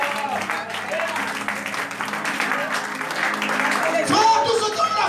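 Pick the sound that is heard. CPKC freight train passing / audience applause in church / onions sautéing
audience applause in church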